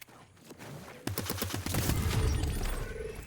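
Rapid bursts of gunfire in a Fortnite match, a quick volley of sharp shots that starts abruptly and rolls into sustained, dense firing.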